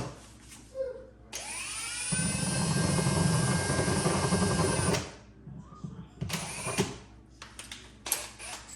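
Close, loud whirring of a power driver screwing a wall anchor into a wall: one sustained high-pitched spin lasting a few seconds, then several shorter bursts with handling noise between them.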